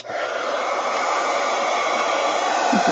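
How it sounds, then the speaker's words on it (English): A heat gun blows hot air over a journal craft project, a loud, steady whooshing roar that starts abruptly and holds constant, with no talking. "heat gun"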